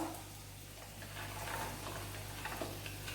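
Potatoes, onions, carrots, capsicum and cabbage sizzle steadily in about three tablespoons of hot oil, a soft continuous frying hiss with faint stirring clicks and a low hum underneath.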